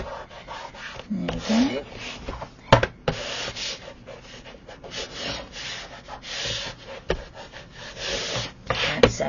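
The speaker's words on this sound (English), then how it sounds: "just give that a burnish down, give it a little wiggle, and then push it over onto itself, and then just burnish that bit down" Folded paper being burnished flat by hand while assembling an exploding album box, heard as close, steady rubbing and scraping strokes with a few sharp taps, plus one brief spoken remark near the end.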